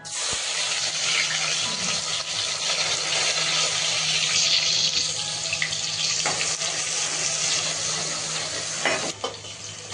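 Ginger garlic paste and onion fry in a pan with a steady, bright sizzle throughout, with a few faint clinks of stirring and no talk.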